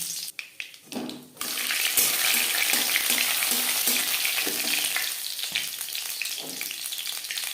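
Panch phoron and bay leaves hit hot mustard oil, opening with a few sparse taps before a loud, close, sustained sizzle and spatter that carries on with light crackles.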